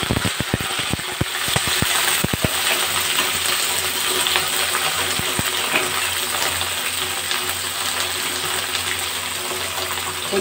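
Okra pieces drop one by one into hot oil already seasoned with black cumin and dried red chillies, followed by a steady, close sizzle and crackle of frying in the pan.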